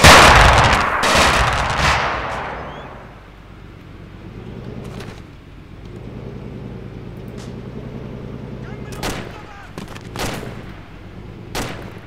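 Gunfire in the military video game Arma 2, a loud opening burst of shots followed by scattered single cracks over a low vehicle-like rumble, with a voice talking throughout.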